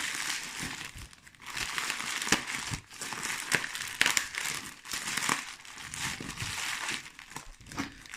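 Steady crinkling and crackling of plastic or cardboard packaging on storage boxes being pushed and torn to poke a hole, close up, with sharp pops scattered throughout.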